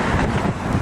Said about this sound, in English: Man, it is real windy.